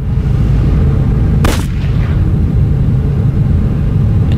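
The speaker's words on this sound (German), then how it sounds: "Schuss." A single sharp gunshot cracks in The Raven video game, landing about a third of the way in over a loud, steady low rumble of background ambience.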